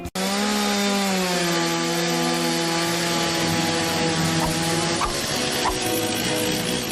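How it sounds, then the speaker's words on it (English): A chainsaw in an animated TV episode runs at a steady, loud whine for several seconds without pause, its pitch holding nearly constant and then wavering slightly with a few faint knocks toward the end. "Chainsaws don't kill people, Becky. People do. People with chainsaws"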